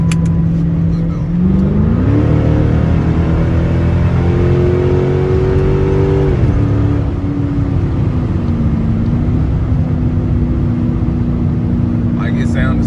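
Dodge Charger with a straight pipe exhaust and an exhaust leak, heard from inside the cabin as a loud, steady droning rumble that rises in pitch, holds, then settles back to a lower hum.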